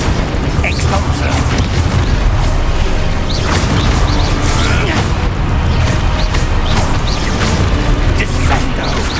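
Hogwarts Legacy spell combat, with the Expulso blasting charm going off amid a dense, continuous roar. Booms and crunching impacts stack on one another, and a voice calls out spell names throughout.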